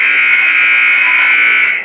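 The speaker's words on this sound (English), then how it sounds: "Oh, now it's the second buzzer." A game buzzer sounds one loud, steady electronic blare that lasts nearly two seconds at a high school boys basketball tournament semifinal in Missouri.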